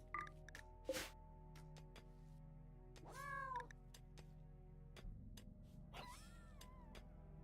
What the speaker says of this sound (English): The sound of the cat.